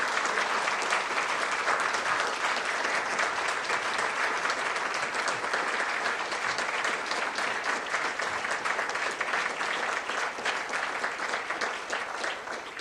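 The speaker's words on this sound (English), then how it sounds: "Let's give Jim and Steve a big round of applause" A dinner audience at an awards event applauds honorees Jim and Steve with a long, steady round of dense clapping that stays even throughout, easing slightly at the end.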